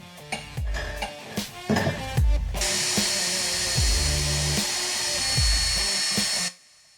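A power screwdriver drives screws into a Hettich Salso corner unit swivel pull-out, with a few quick clicks and short whirs and then a steady, close whine lasting several seconds before it stops suddenly.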